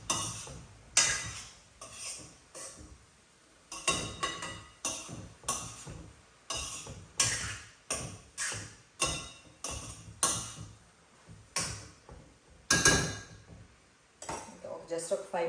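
Spatula clinks and scrapes against a pan while cabbage and fresh coconut are stirred and fried, repeated metallic taps in an irregular rhythm, close and moderately loud.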